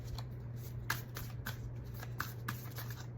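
Tarot cards are riffled and shuffled in a soft, steady patter of flicks and taps, close and quiet over a faint low hum, with no voices.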